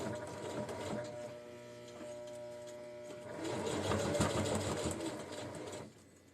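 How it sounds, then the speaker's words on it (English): A sewing machine stitches a lining into a granny square tote, a close mechanical whirring run that grows busier and louder partway through, then stops near the end. "I've been sitting here for an hour stitching this lining in"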